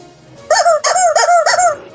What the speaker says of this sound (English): Chicken noises.